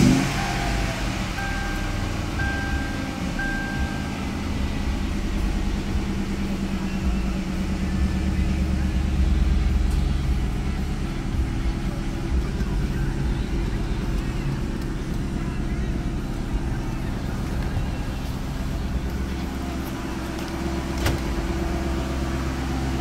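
A blue 2003 Mercury Marauder with 6000 miles idles steadily, a low continuous engine rumble that holds for the whole stretch, close by, with some background noise.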